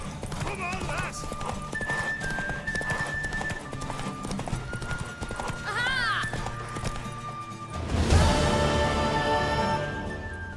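Horse hooves gallop in a fast drumming rhythm with a whinny, game music and voices over them, then a loud crash near the end, from the video game The Witcher 3: Wild Hunt.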